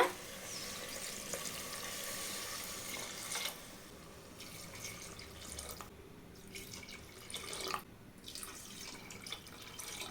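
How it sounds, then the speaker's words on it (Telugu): Water pours steadily into a cooking pot of mutton biryani, a continuous splashing rush for several seconds that dips briefly, then resumes without any talking. "ఇప్పుడు నేను ఒక గ్లాస్కి అయితే రెండు గ్లాసుల వరకు వాటర్ వేస్తున్నాను మొత్తం అయితే నాలుగు గ్లాసుల వరకు వాటర్ వేస్తున్నా"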